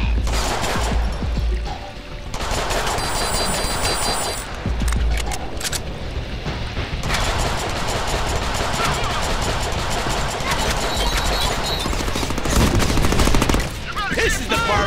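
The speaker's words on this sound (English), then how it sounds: "Now I have a machine gun" Machine gun fire in a Deadpool video game, rapid bursts layered with game effects and music, with a voice talking over the action at points.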